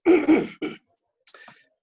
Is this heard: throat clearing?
yes